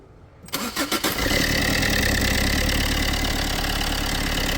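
A car engine cranks with a few rapid turning beats, catches, and settles into a loud, steady idle rumble close by.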